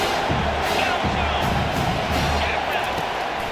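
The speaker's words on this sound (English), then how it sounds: "Here comes this home crowd as the defense tries to get off the field on 3rd down." Home crowd at a football game roaring steadily as the defense tries to get off the field on third down, a dense continuous wall of cheering and whooping throughout.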